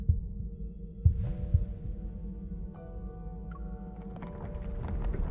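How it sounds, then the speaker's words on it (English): A slow, muffled heartbeat thumps a few times in a video game scene, low and soft, over a steady hum with faint chiming tones rising later. "Oh, it's a heartbeat."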